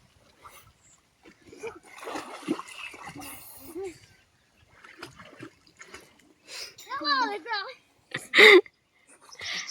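Young ducklings and bigger ducks swim and dive in a village pond, with scattered soft splashes and water sloshing. A voice talks intermittently over the splashing.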